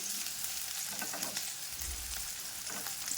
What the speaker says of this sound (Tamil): இந்த வெங்காயம் வதங்கிட்டுருக்குது, வதங்கிடுச்சு.